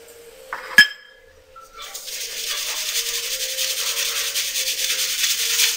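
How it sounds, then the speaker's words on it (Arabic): Toasted sesame and spices for Moroccan chebakia being shaken through a sieve, a soft continuous rasping hiss that starts after a brief clink and keeps up steadily. "غادي نغربلوهم مزيان"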